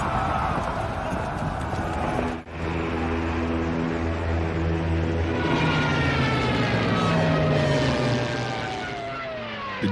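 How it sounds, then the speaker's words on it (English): German Stuka dive bombers flying, a loud continuous droning propeller-engine roar with rising and falling pitch, briefly dipping before surging again and sweeping into a whining tone toward the end. "The Germans launched their Stuka dive bombers, which leveled the model city of Stalingrad"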